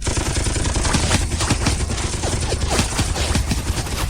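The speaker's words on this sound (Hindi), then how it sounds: "सभी तैयार, पंक्तियों में खड़े होकर निशाना सा, फायर।" A video game soldiers' musket volley during a fortress assault. Dense, overlapping cracks and pops sound as a loud continuous fusillade for several seconds.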